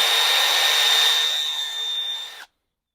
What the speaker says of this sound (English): A little more with the drill.